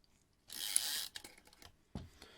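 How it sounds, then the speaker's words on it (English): Shutter of a Yashica MAT 124 G twin-lens camera firing once, a sharp mechanical burst of clicking and whirring followed by a brief rattle and a second short click, close and fairly faint. "We can actually try to fire the shutter."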